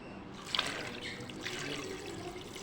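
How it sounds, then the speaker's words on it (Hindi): Water poured from a glass into a cooking pot holding about a kilogram of mutton and onions, a steady close trickle and splash running for a couple of seconds with no talk. "2 गिलास पानी डाल दिया।"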